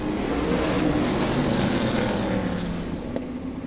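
A pack of sprint cars roaring around a racetrack in close succession, a loud, continuous, droning engine blare with no pauses, heard alone without any voices.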